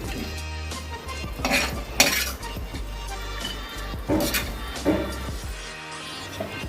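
Roasted dry fruits are scooped from a pan onto a plate with a metal spoon, giving several distinct scraping clinks and clatters spaced a couple of seconds apart over a quiet background.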